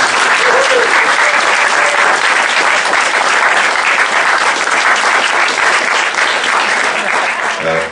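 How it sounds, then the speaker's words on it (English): A large room audience cheers and claps loudly and steadily for a band at a launch event, a dense wall of applause with whoops throughout, fading slightly at the end. "Would you give her a big cheer, please?"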